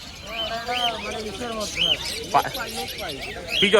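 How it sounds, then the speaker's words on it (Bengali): Many birds at a street market, including pigeons, chirp and tweet in quick bursts around the recorder while someone talks over them nearby. "মানে এখানে দেখো ভাই কত পাখি আর পাখি।"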